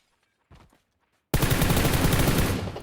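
Sustained burst of automatic gunfire from the PUBG Lite battle royale game, loud and continuous after a brief quieter sound and a stretch of near silence, with no talk over it.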